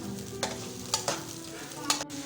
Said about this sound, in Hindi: इसमें 2 अदद मीडियम साइज़ के कटी हुई प्याज हम डाल देंगे और इसको अच्छे से ब्राउन करेंगे